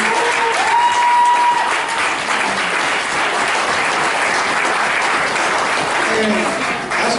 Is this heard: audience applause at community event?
yes